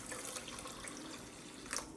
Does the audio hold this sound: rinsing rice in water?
yes